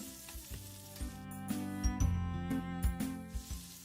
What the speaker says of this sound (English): Add the shrimp to the pan and fry for 2 minutes.